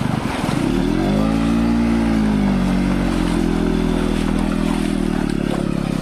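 An off-road motorcycle stuck in mud revs hard and steadily to break free, its engine note rising and falling loudly and up close throughout, with no talking.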